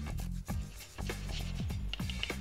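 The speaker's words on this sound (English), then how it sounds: "Some fresh Parmigiano Reggiano. We're gonna grate it, and then we're gonna toss it on top." Fresh Parmigiano Reggiano is grated by hand over risotto, giving a run of short, dry rasping strokes in a steady rhythm over a low, humming background.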